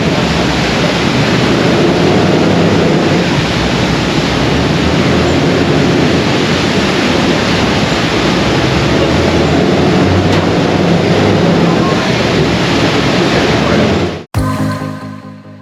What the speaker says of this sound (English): Listen closely as Captain Israel holds the jetboat in place